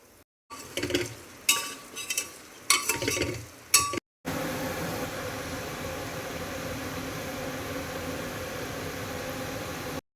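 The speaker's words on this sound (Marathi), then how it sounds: "आपण चिरलेला बटाटा आहे तो टाकू टोमॅटोच्या अगोदर टाकू म्हणजे भाजले व्यवस्थित" Chopped potato added to a hot pan of tempered spices for masale bhaat: a few scraping stirs and clinks, a brief silence, then a steady, even sizzle of frying that carries on to the end.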